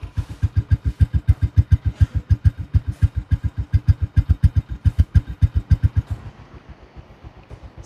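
A carbureted motorcycle engine runs with a steady, rapid low thumping pulse for about six seconds, then drops away to a faint idle near the end, close and loud with no talk.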